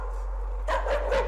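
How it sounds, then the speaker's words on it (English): A dog barks in the horror video game Layers of Fear, a few quick barks close by over a low steady hum, with no talking. "A dog. Doggy!"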